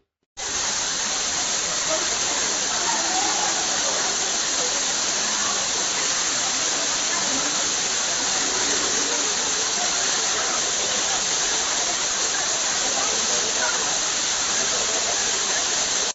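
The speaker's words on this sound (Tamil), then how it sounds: "குற்றாலம் மெயின் அருவி ஐந்தருவி மற்றும் பழைய குற்றாலம் அருவிகளில் தண்ணீர் கொட்டுகிறது" Heavy water pouring down the Courtallam falls in Tamil Nadu after heavy rain, a loud, steady, dense roar that continues unbroken without any pause.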